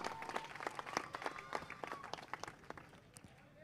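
Spectators at a local cricket league final clap in a brief, fairly faint burst of scattered applause that thins out and fades over a few seconds.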